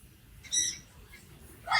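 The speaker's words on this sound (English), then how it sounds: "Got a bunch of macaws." Pet macaws squawk in the background of a room, two short harsh bursts about a second apart, fairly faint and distant.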